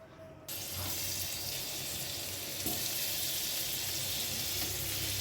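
Paneer frying in ghee in a pan, a sudden loud sizzle that starts after a short quiet moment and then holds as a steady hissing crackle.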